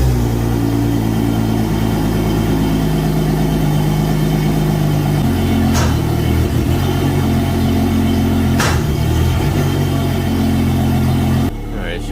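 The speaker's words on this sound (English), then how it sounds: "Alright, start with our port engine." The port Yamaha outboard engine on a Regal 38 XO boat runs at a steady, close idle for about eleven seconds, with a couple of sharp clicks, then drops off near the end.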